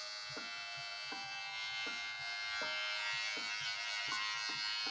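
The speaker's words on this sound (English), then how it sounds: "Let's turn the motor. This is what she sounds like." A T Pob Troll electric hair trimmer running close up, a steady high-pitched motor whine and buzz with faint regular ticks, alone and without speech.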